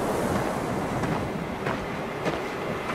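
Steady video game ocean surf washes continuously on a beach, a broad rushing roar with soft swells and no voices.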